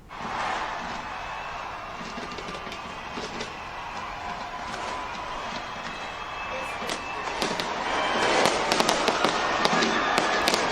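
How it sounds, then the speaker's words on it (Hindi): Dense New Year fireworks crackle and bang across Auckland, New Zealand, a continuous wash of sharp pops and bursts that thickens toward the end, with faint crowd voices mixed underneath. "न्यूजीलैंड के ऑकलैंड में खूब आतिशबाजी की गई"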